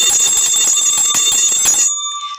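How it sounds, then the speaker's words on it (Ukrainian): A small hand bell rung loudly and continuously in a kindergarten music lesson, a rapid bright jangle that stops abruptly and leaves a fading ring. "це буде голосне звучання дзвіночка"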